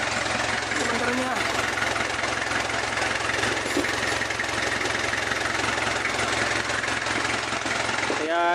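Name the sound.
Kia Bongo engine running after starter motor cleaning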